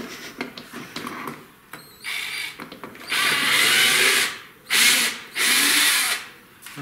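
A power drill drives screws with a bit while a canopy is dismantled, first as scattered short clicks and then as loud whirring bursts in quick succession, close by and alone.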